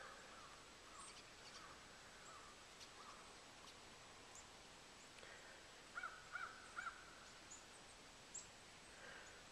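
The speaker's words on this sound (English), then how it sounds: "Crows." Outdoors, crows give a few short caws in quick pairs, fairly distant and soft, over quiet background hiss and faint rustling, with no talk.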